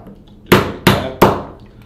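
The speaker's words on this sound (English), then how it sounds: "set it in the universal deprime station, give it a couple taps with the hammer" Three sharp hammer taps on a module seated in a universal deprime station, evenly spaced and close, each a crisp metallic knock that fades quickly.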